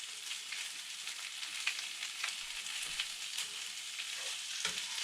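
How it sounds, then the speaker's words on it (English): Bear back chop frying with garlic in a hot pan, stirred around: a steady, loud bright sizzle throughout, with a few scraping clicks from the stirring and no talk. "take our bear back chop, throw this back in there, and we'll give her a nice little mix"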